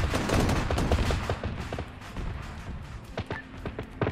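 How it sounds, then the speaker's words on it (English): Dense, loud gunfire from a Call of Duty battle, bursts of automatic fire and repeated sharp shots crowding together, with a few spaced heavier cracks later on. "I'm shooting people!"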